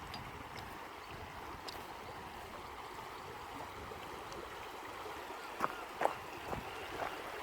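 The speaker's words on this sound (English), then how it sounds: "The only way up there seems to be through this river." Shallow river flowing steadily beside an old railway route, a continuous rushing wash with a few faint splashes and knocks near the end.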